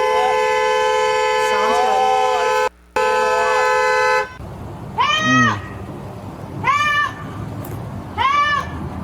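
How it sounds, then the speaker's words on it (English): Loud car horn blaring in long sustained blasts, briefly cut off, followed by several shorter rising and falling tones like a siren or meowing yelps, all close and prominent during a roadside encounter with police. "I'm allowed to honk my horn all I want."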